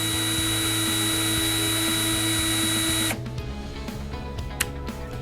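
A Bosch GSR 120-LI cordless drill runs in first gear at low speed with a steady whining motor hum, then cuts off about three seconds in, leaving a quieter residual whir and a small click.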